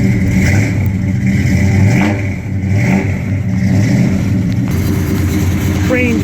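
A 1973 Dodge Dart with a six-pack setup, Crane cam and roller rockers, its V8 engine revving up and down while driving, loud and close, with someone talking over the rumble.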